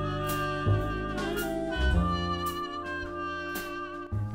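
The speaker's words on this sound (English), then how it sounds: "That is a bell muted trumpet," A trumpet fitted with a cork bell mute plays a sly, nasal line in 1930s-style jazz from Nancy Drew game music, with steady band accompaniment underneath and no voices.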